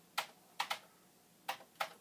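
Sparse keystrokes on a Commodore 64 keyboard under test, five quick close clicks in small clusters over a quiet background, no voices.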